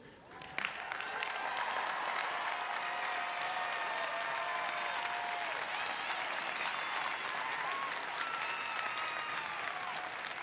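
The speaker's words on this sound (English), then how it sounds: "Now you may turn, apparently, and face your families and friends for applause." Families and friends applaud honors graduates at a 2021 college convocation ceremony, a broad, steady wash of clapping from a large crowd that swells in after a quiet opening and holds at an even level for about ten seconds.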